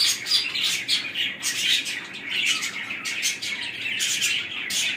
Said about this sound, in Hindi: ये मेरे तोते हैं सारे,